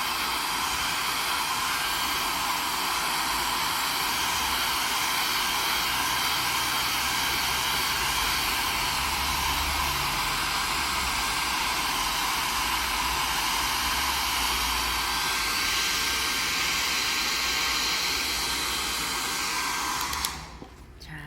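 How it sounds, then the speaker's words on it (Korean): A hair dryer blows steadily to dry paint on a small handmade flower pot, a loud, close, unbroken whoosh that runs for about twenty seconds before cutting off abruptly. "드라이기가 오늘은 많이 애쓰네요"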